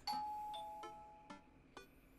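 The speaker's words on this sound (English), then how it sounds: "the doorbell rings" A doorbell in the video game Dream Daddy sounds a sustained tonal chime, followed by several quieter, short bell-like taps spaced unevenly, all faint and clean with no talk.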